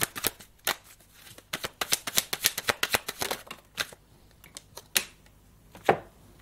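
Cards being shuffled for a card reading, a quick run of crisp riffling snaps followed by a few separate slaps as the deck is squared, close and alone.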